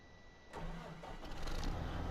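A tractor engine starts up in Farming Simulator 2015, rising from a quiet hum into a steady, rumbling mid-pitched idle that grows slightly louder and holds.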